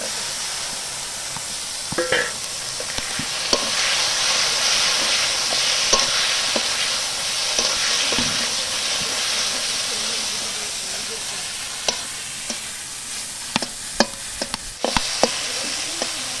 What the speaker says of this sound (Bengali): মশলাটা সুন্দর কষানো হয়ে গেছে, এবার আমি চিংড়ি মাছগুলি সব দিয়ে দিচ্ছি।